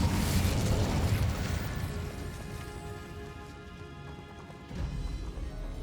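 An Incendio fire spell cast in Hogwarts Legacy, a loud whooshing burst of flame at the start that decays into a crackling, rumbling tail with a second swell near the end.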